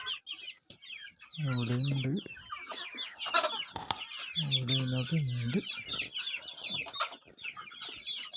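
Several native chickens cluck close by in repeated bursts while a person speaks briefly, with chirping birds in the background.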